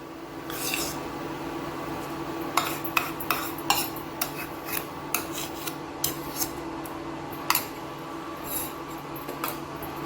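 Carrot kheer with melted sugar and unsweetened kova being stirred in a pan: a steady scraping base with a run of sharp spoon-on-metal clinks and taps, spaced irregularly and close, with no talk.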